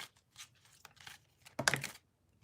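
A deck of tarot cards is shuffled nearby, soft papery riffles and rustles in bursts, ending in a louder crisp riffle before falling quiet.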